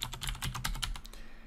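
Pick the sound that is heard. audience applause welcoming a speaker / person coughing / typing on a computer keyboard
typing on a computer keyboard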